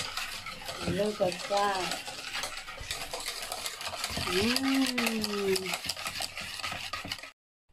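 Homemade custard being stirred and mixed in a pot, with a steady scraping and clinking of a utensil, while a voice speaks briefly over it.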